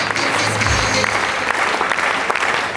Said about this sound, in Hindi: एक बार इनके लिए जोरदार तालियां प्लीज